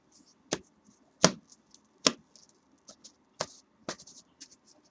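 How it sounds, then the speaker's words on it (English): A deck of trading cards being shuffled and cut by hand on a quiet table, five or six sharp slaps and snaps spaced about a second apart with faint shuffling between, close and soft. "Now let's go ahead and shuffle. We're going to cut one more time."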